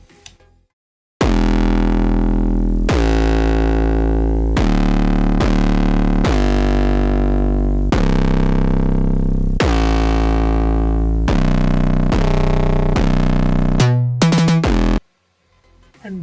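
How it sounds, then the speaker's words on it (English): The main synth bass layer for the drop of a remake: a loud, sustained, harmonically rich bass plays a sequence of held and shorter notes with abrupt changes, alone and without voices. "this is the main layer of the bass"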